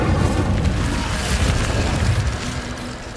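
Incendio fire spell cast in Hogwarts Legacy on PS5, a loud booming burst of flame that roars steadily for about three seconds with a low rumbling body, no talking over it.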